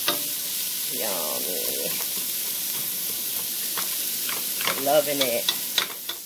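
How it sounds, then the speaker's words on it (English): Oxtail stir fries in a pan with a steady close sizzle and hiss, broken by scraping stirs, while a person speaks briefly. "we're just going to stir fry them up"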